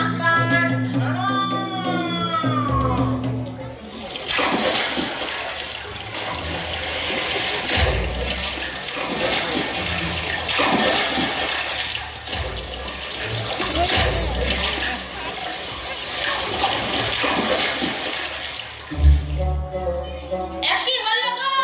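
At a school stage play, water gushes and pours in a loud, continuous rushing stream for most of the clip, with voices and singing heard at the start and end.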